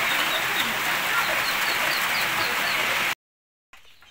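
Ducks and young birds peep and chatter in a busy nearby flock, then the sound cuts to silence before faintly resuming.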